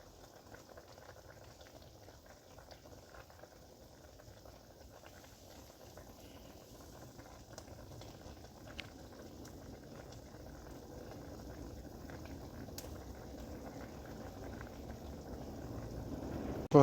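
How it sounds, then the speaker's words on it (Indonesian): Water boiling in a pot of duck rica rica over high heat, a steady close bubbling and rattling simmer that slowly builds in intensity throughout, with no voices. "Ketika sudah ditambah air, airnya mendidih, gunakan api besar supaya cepat mendidih."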